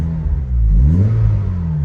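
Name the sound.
car engine ticking over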